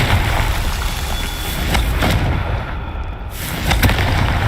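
Confringo fire spell explosions in the Hogwarts Legacy video game, several booming blasts over dense combat noise, loud and close, with a final burst near the end.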